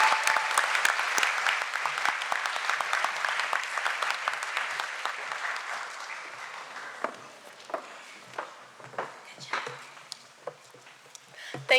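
An audience at a conference opening plenary applauds a speaker being welcomed, sustained clapping that thins out into scattered claps and footsteps.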